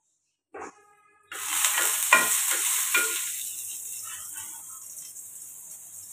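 Asafoetida (hing) dropped into hot oil with curry leaves over a very low gas flame bursts into a loud, steady sizzle after a brief clink, with crackling pops fading into a lingering hiss.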